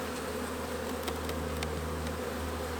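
Dense, steady buzzing of a honeybee swarm as bees are shaken off hive frames into a poly hive, close and loud, a continuous drone with a few sharp knocks of the frames.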